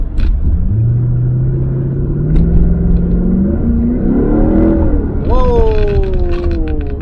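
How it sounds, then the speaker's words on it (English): Steady low engine rumble from the exhaust of a 1998 Lexus SC400, rising in pitch as it revs, with a whining tone climbing near the end. "the exhaust sounds pretty good."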